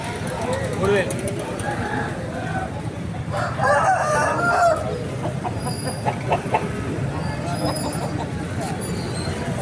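Roosters crow and chickens cluck nearby at a busy country-chicken market, with people talking loudly over the birds throughout.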